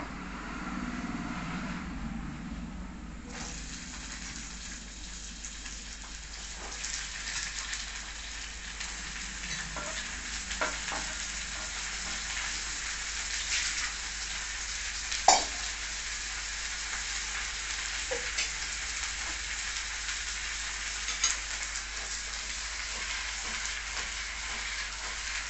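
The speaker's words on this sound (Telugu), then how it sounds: "ఇప్పుడు వంకాయ ముక్కలు వేసేసుకుందాము." Eggplant pieces fry in hot oil tempered with urad dal, chana dal, cumin and dried red chillies, giving a continuous sizzle with occasional stirring clinks and scrapes, close by and without speech.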